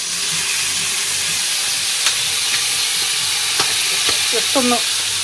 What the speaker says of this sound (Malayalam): ചിക്കൻ ഷാലോ ഫ്രൈ ചെയ്യുന്നത്